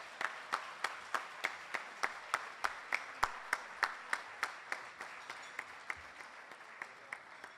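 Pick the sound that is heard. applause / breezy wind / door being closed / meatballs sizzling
applause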